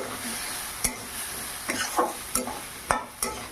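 Boiled peas and potatoes, drained dry, sautéed in a pan for Bengali ghugni: a steady low sizzle broken by five or six sharp spatula scrapes at uneven intervals.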